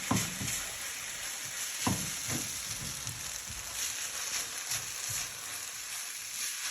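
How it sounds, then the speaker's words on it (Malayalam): Chicken noodles are stirred in a hot pan, giving a steady frying sizzle with scraping and clinking from the utensil repeating every half second or so, close up and with no talking. "ഇതൊന്ന് ഇളക്കിയിട്ട് കൊടുക്കണം."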